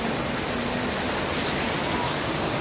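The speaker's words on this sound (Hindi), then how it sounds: "बारिश तो बहुत तेज की है, ये देखिए हवा के साथ बारिश चल रही है" Heavy rain pours in a dense, steady hiss, with gusts of wind woven through the broadband roar, loud and close.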